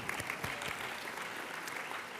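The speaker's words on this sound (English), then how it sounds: "We're going to clap for them anyway." A conference alumni awards banquet audience breaks into a short burst of applause, a dense crowd of clapping hands heard throughout.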